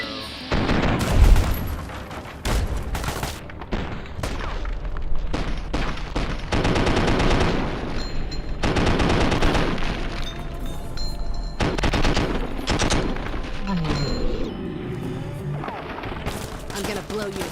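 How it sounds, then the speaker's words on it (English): Video game combat in Fallout 3 and New Vegas: rapid bursts of gunfire and booming grenade explosions crowd the whole stretch, loud and dense, with irregular pauses between volleys. "That guy right there just shot a fucking grenade at us, bro."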